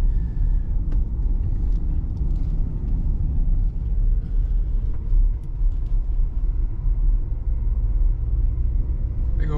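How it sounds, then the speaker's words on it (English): Steady low rumble of a car rolling slowly through Sunlight Bay Campground near Nimrod Lake, a continuous close engine and tire drone with no talking. "We're just driving through."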